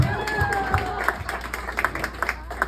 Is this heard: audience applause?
yes